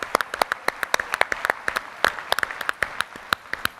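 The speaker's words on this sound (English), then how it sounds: "So can I get one last round of applause for this entire community?" Sparse round of applause from a conference audience at an insurance industry event, with distinct individual claps popping out irregularly over a thin background of clapping, close and crisp.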